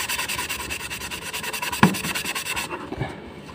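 Sponge scrubbing limescale off a washing machine's glass door: quick, rhythmic rubbing strokes up close, with a soft bump partway through, before the scrubbing stops and only a faint residue of sound remains.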